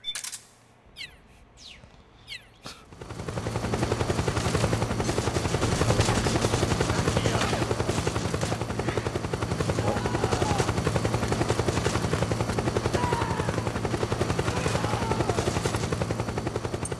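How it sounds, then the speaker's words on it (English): Helicopter in the video game Metal Gear Solid 4, its rotor starting after a few sparse game sounds and then beating loudly and steadily in a rapid, even chop that holds to the end. "That chopper's gonna give us a lot of problems"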